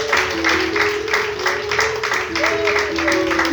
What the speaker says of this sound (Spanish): Dale los aplausos.